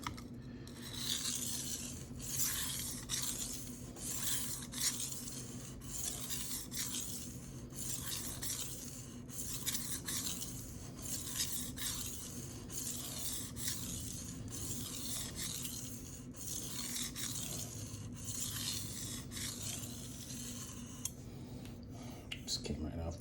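A knife edge drawn across a Shapton Rockstar 500 whetstone in a long series of rhythmic, gritty rasping strokes, close and even, with someone talking quietly over them.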